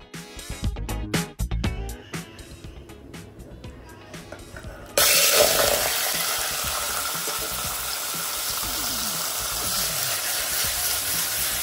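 Marinated chicken goes into hot oil in a pressure cooker, and a loud burst of sizzling begins midway and keeps up as a steady close hiss. Before that come clattering kitchen knocks.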